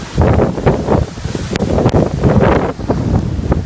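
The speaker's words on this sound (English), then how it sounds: "That wind." Strong gusts from Hurricane Matthew buffet the microphone in loud, rumbling surges with rustling leaves and debris, steady and close, with no one speaking.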